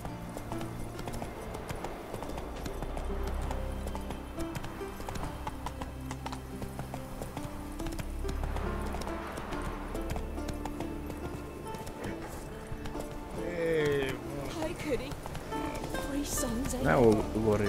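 Geralt's horse Roach in The Witcher 3 video game, steady rhythmic clip-clop of hooves at a walk that runs throughout, mixed with game music and people talking over it.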